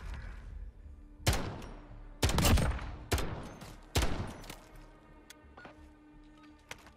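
Light machine gun fire in Call of Duty Modern Warfare during a Gunfight Speedball match: several sharp, loud bursts of shots spaced irregularly over a few seconds, with quieter background game noise between them.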